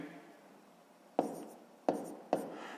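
Pen on paper writing the numbers of a fraction in a sixth-grade maths exercise, three short, sharp taps and scratches close by after a quiet start, fairly faint.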